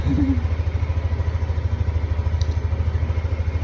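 A repaired motorcycle engine idles nearby with a steady low, rapid pulsing chug that stays loud and even, with a brief voice near the start.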